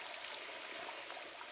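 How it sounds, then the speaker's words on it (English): A small year-round spring trickles steadily, a soft, even wash of running water heard close and alone with no voices. "this little spring runs year-round."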